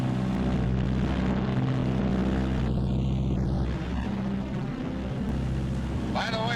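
A Martin B-26 Marauder in flight gives a loud, continuous propeller engine drone from inside the aircraft, with a brief higher tonal whine partway through.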